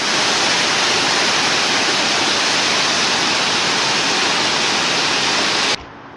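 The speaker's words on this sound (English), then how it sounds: "Here's the main waterfall." A waterfall in the Black Hills roars steadily, a dense, broad rush of falling water that fills the whole clip before cutting off sharply near the end.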